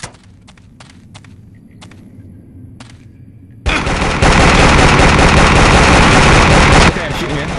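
Gunfire in the video game Vietnam 2: Special Assignment: several sharp isolated shots early on, then a loud, dense burst of sustained automatic fire for about three seconds before easing off.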